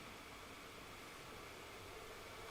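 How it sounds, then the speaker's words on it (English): A steady wash of broadband hiss, like a white noise sweep, holding at a constant level and swelling slightly at the very end. "You have this white noise sweep that's happening here"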